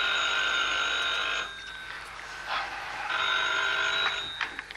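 A telephone rings with a steady electronic trill in two long bursts separated by a brief pause, fairly clear and close, with no voices over it.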